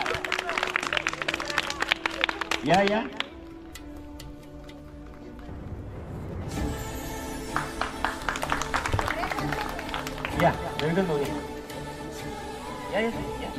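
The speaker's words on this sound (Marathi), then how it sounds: "टाळ्या जोरात" A crowd claps for prize winners at a Republic Day celebration, with irregular bursts of hand claps mixed in among an announcer's voice, a pause of quieter talk, then louder clapping resuming.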